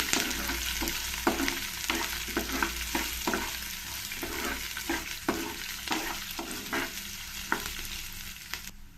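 Chopped onion, green chilies and curry leaves fry in a pan for a cabbage stir-fry, with a soft continuous sizzle under repeated sharp spatula scrapes and taps in an irregular rhythm, close and moderately loud.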